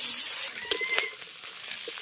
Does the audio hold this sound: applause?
no